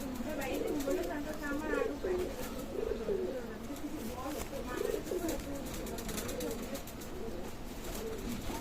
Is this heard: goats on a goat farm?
no